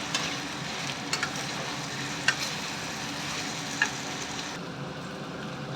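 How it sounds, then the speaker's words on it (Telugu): Potato fry cooking in a pan, a steady close sizzle with occasional soft scrapes and taps as a spatula stirs the pieces, no voices. "ఇలా అట్లకారతో కలుపుకోండి, బాగా వస్తుంది"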